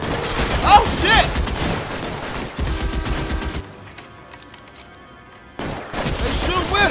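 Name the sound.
gunfire from the video game L.A. Noire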